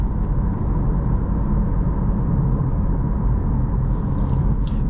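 A 2023 Acura Integra A-Spec driving through corners, heard as a steady low engine and road rumble from inside the cabin, even and unbroken throughout, with no talk.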